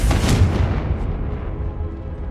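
Confringo blasting spell in Hogwarts Legacy goes off as a loud, deep boom that starts at once and rumbles away over about two seconds, with no one talking.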